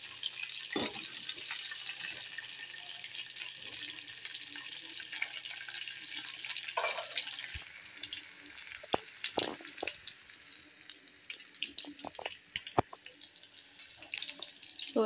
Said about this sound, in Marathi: आता हांव हे सोया चंक्स मिडियम फ्लेम करून बरें फ्राय करून घेता.